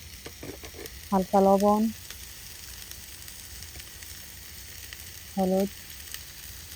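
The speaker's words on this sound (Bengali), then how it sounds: "আমি আলু ভাজি এগুলো দিয়ে দিছি" Potatoes frying in a pan give a steady, quiet sizzle throughout, with brief stirring. Someone speaks over it twice.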